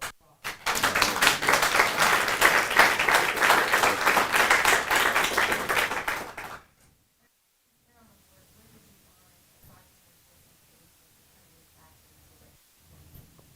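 An audience applauds after a talk by a former chairman of the Oklahoma Pardon and Parole Board, with dense clapping for about six seconds before it stops abruptly, followed by near silence and faint room sounds.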